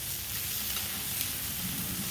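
Burgers sizzle on a Blackstone griddle in a steady, close, even hiss with faint crackling and no talk.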